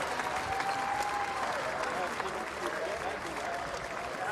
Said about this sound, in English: So we can hear the fans cheering right now